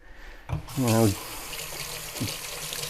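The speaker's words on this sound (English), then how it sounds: "A lot of times I'll just give it a quick little rinse one time, drip it off." Tap water runs steadily into a kitchen sink as food is rinsed, a close broadband hiss that starts with a knock and a brief voiced sound, then flows on unbroken with another small clunk near the end.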